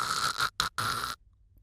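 A narrator's voice imitates a character's loud snoring: a few harsh, rasping snore bursts in quick succession, then silence.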